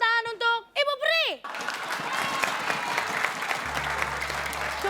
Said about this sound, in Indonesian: Kalau tepuk tangan untuk Ibu Peri.